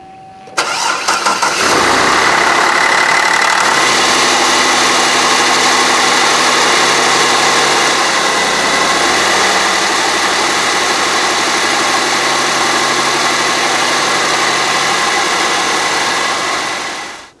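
Cadillac CTS with the 3.6 liter engine and a bad timing chain, running loud and close with a steady mechanical rattle over the engine drone. It starts up about a second in and keeps going for the rest of the clip.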